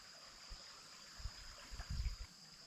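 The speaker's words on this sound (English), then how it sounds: "Soothing sounds of water." Water flows in a stream beneath a newly built bridge near a farm, making a faint steady trickle with a few soft low splashes and gurgles scattered through.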